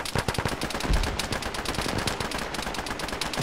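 Dense gunfire from several weapons crackles in a ShackTac military shooter, a close, rapid, continuous string of shots.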